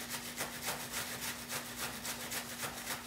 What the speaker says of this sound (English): we're grating our red cabbage, the 4 ounces of red cabbage